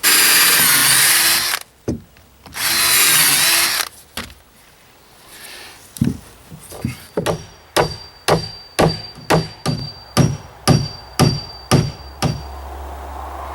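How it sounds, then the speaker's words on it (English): Two bursts of a power drill whirring as it pre-drills nail holes in a garden shed wall frame, followed by a series of rhythmic sharp knocks, about a dozen, close and loud. "Now I want to pre-drill my nail holes."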